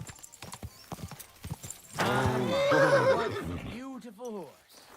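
A horse in the medieval game Kingdom Come Deliverance 2 clip-clops steadily before letting out a loud, drawn-out whinny in the middle, followed by a shorter whinny and snorts; hooves stay close throughout.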